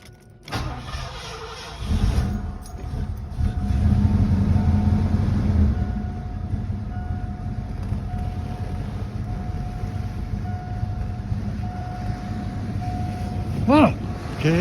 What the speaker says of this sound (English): very smooth engine. Very quiet, silky. A real silky engine